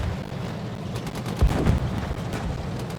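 A TOW missile launches from an M2 Bradley in the tank combat game GHPC, a low rumbling whoosh with a brief thump at launch over steady engine and battlefield noise.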